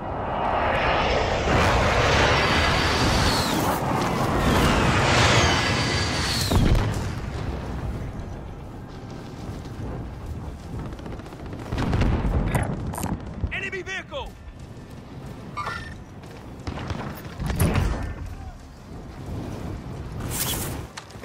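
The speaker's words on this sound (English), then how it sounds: "airstrike inbound" Airstrike in the video game Warzone: loud, sustained roar of aircraft and heavy explosions in the opening seconds, followed by scattered booms and blasts of varying loudness, with voices heard at times.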